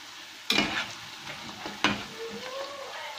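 Zalabia dough dropped into hot oil, two sharp splashy bursts of bubbling that settle into a softer crackling sizzle, close and clear without voices.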